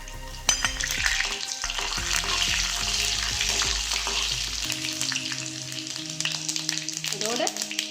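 Cumin, fenugreek and mustard seeds spluttering in hot sesame or groundnut oil for a Tamil dried-fish thokku, a loud continuous crackling sizzle with sharp popping bursts throughout.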